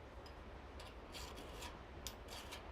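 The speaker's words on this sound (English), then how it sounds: "Take off some burrs with the flat side." A flat file rasps burrs off metal in a smithy, giving a few faint, brief scraping strokes over a steady background hum with no voices.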